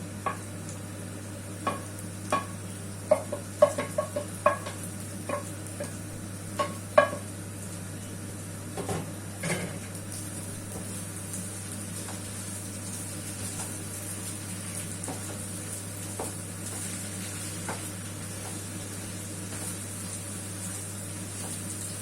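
Spinach being stirred in a frying pan over a steady background sizzle, with a run of clicks and scrapes from the spoon against the pan in the first half before the frying settles into a continuous hiss.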